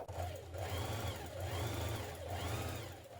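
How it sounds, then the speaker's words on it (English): A sewing machine stitching the back seam of a jumpsuit, a steady close mechanical whir with a rhythmic rising and falling hum. "stitch the seam in place"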